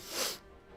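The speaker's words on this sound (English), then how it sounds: "I sneezed, okay?" A single short, soft sneeze from a person, a quick breathy burst under a second long, close and fairly quiet, followed by a faint background hush.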